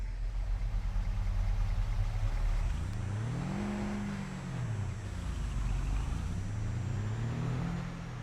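A pickup truck in Farming Simulator 22 drives along with a steady low engine drone that rises and falls in pitch as it revs and shifts, with no talking over it.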